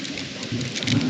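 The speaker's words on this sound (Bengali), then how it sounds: "আপাতত প্রচণ্ড হাওয়া, ওই মেঘ ডাকছে।" In a windy mountain storm in East Sikkim, rain hisses steadily over a low, rolling rumble of thunder that swells toward the end of a brief burst.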